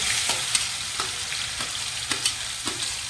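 Garlic sizzling and frying in hot oil as the tempering for sarson ka saag, a steady crackling hiss broken by sharp spatters and occasional stirring sounds, close and moderately loud with no talk.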